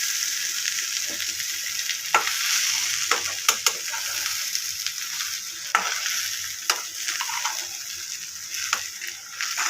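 Mashed potato with onions is worked in a pan for a Bengali alu chokha, producing a soft continuous sizzle with scattered scraping taps of the spoon against the pan, fairly quiet and with no talk.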